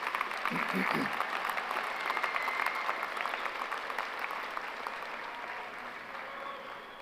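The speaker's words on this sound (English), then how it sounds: "So please give yourselves a round of applause for being here today" The audience at a high school graduation ceremony applauds itself, a broad, steady roar of many hands clapping in a large venue that holds strong, then gradually tapers off toward the end.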